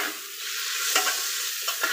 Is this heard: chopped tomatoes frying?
yes